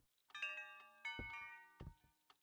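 Chimes ringing in the puzzle video game The Last Will: three separate bright, sustained bell-like tones with long ringing overtones, struck one after another at a moderate pace, fairly close and alone.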